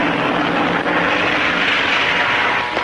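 A small airplane's engine drones loud and close in a steady, unbroken roar that fills the whole moment, with no voices over it.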